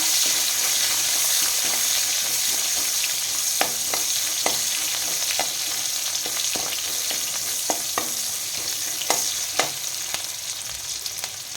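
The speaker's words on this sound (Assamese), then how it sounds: "এইখিনি অকণমান ভাজি ল'ম।" Onion and green chili frying in a pan with crab fat, a continuous hissing sizzle punctuated by scattered clicks of a spoon stirring against the pan, close up.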